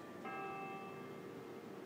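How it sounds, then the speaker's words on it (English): Bells chime once with a clear sustained tone that slowly decays, faint against a steady background hiss. "Here they come. The bells of Boom U."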